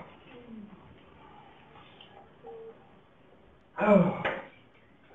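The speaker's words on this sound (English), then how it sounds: "Cough." A man coughs during a school author visit: faint breathy throat sounds at first, then one loud, harsh cough burst near the end, heard close up with no talk over it.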